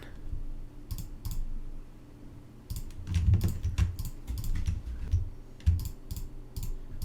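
Rapid computer mouse and keyboard clicking during 3ds Max modelling, a dense run of close, sharp clicks in irregular clusters over a low background hum, with no talk.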